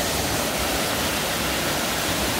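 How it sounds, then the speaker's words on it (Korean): Sambo Falls, a waterfall in the Naeyeonsan mountain valley, pours in a loud, steady, unbroken roar of rushing water with no voices. "여기는 세 번째 폭포, 삼복폭포를 보고 있습니다."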